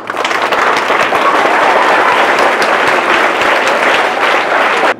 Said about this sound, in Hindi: तो सीए के हस्ताक्षर के लिए एक बार जोरदार तालियां।